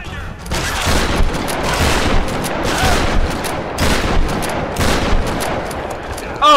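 Dense, loud gunfire from Tomb Raider, rapid overlapping shots and bursts running almost continuously with brief dips, under scattered game noise.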